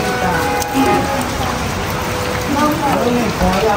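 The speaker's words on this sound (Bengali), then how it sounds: "বাহিরে হচ্ছে বৃষ্টি, ব্যাপক" Heavy rain pours outside, a dense steady hiss of falling drops beneath someone talking in the foreground.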